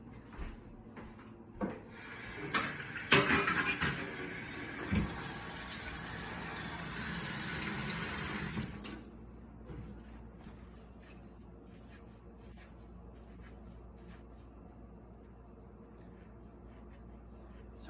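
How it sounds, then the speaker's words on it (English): Cold tap water runs into a kitchen sink as wild carrots are washed, a loud steady gush with clunks of handling, then the flow stops and quieter rubbing and scrubbing sounds follow. "throw them in the sink with some cold water, and we're going to give them a good scrub with just the back of a sponge"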